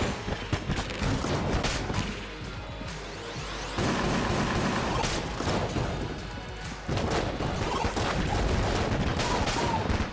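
Rapid bouncing-bullet gunfire from the Enter the Gungeon video game, dense, loud and continuous bursts of shots with clattering impacts over game music, with brief dips in intensity between volleys.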